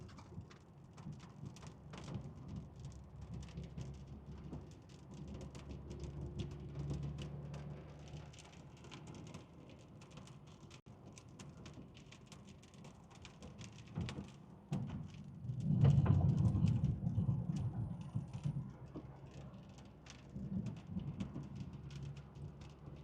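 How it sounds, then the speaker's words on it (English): Steady rain pours down during a Midwest thunderstorm with a tornado threat, a dense patter on surfaces and low thunder rumbling in the distance, building louder toward the end, with no talking. "It is raining."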